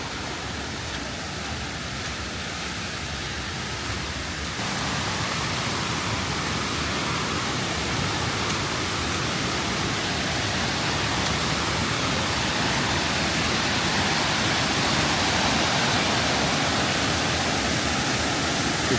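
Elabana Falls in Lamington National Park roars as a dense, steady rush of falling water, loud and continuous throughout, growing slightly fuller partway through with no talk over it.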